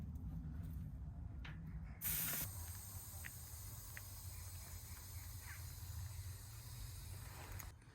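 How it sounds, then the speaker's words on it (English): Air escapes from a tubeless bicycle tyre as the valve is opened, a sudden sharp hiss followed by a quieter steady rush, with small mechanical clicks scattered throughout. "Step 1, we're going to be releasing the air from the tyre."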